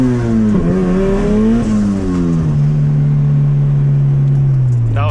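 A boosted Honda CRX engine revs hard and holds near the rev limiter, a loud, steady high-pitched drone with a brief rise and dip in pitch, close and alone.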